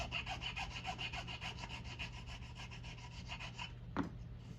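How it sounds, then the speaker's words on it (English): A file rasps back and forth across the wooden stock of a Winchester Model 1890 rifle under repair, with steady close strokes running continuously for several seconds before a brief knock near the end. "A little bit more filing"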